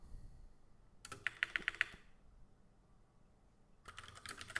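Quick bursts of typing on a computer keyboard, a short run of crisp, closely spaced keystrokes, a pause, then another flurry near the end, heard up close in a quiet room.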